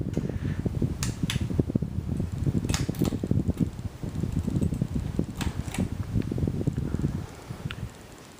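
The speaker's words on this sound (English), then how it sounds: "for the low speed, which I'll show with the fan and light on running simultaneously" A 52-inch Hampton Bay Sonoma ceiling fan turns on low speed with its light on, making a continuous soft whoosh and hum with scattered light ticks.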